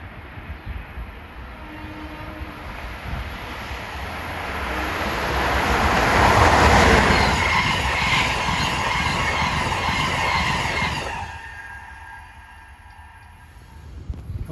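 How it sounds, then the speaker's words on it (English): Train 148, Washington to Springfield, Mass., passing Princeton Junction, New Jersey: a rumble swells to a loud close roar with squealing wheels, then fades as the train moves away. "Here comes train 148, Washington to Springfield, Mass."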